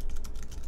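A search being typed on a computer keyboard, heard as a quick run of close, crisp key clicks in an even rhythm, alone without speech.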